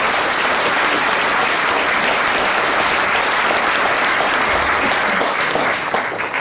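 An audience at a mayor's New Year address in France breaks into sustained, dense applause. The clapping is loud and even throughout, easing slightly at the very end.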